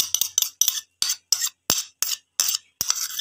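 A metal spoon repeatedly scrapes and clinks against a cooking pot while ghee and cream are worked into it, giving about ten short, sharp scraping strokes with brief silences between them.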